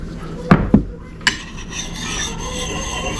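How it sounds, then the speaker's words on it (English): A few sharp metallic strikes and scrapes ring out as a file or stone works the burr off the edge of a Gransfors Bruk small forest axe, followed by a quieter, continuous rubbing. "so we're gonna take that burr off."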